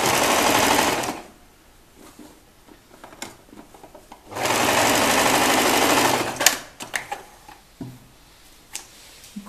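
A sewing machine stitches a child's gathered skirt over interfacing in two steady, fast-ticking runs. Between the runs come quieter pauses with small handling clicks and rustles, all heard close up.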